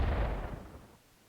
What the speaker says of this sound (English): Now I can hit it twice with artillery